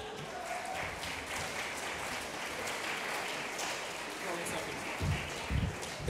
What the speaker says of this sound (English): Donna wants more of a round of applause than that.